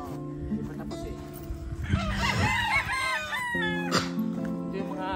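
A rooster crows loudly nearby while other fowl cluck and call, with a steady humming drone in the background.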